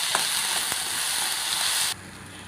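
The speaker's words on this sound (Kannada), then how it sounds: "ಎಲ್ಲ ಹಾಕಿ ಫ್ರೈ ಮಾಡ್ಕೊಳ್ಳಿ." Pepper, cinnamon, cloves, ginger, garlic and coconut sizzling in a pan for a green chicken gravy, a close, steady hiss with a few stirring scrapes before it drops away to near quiet.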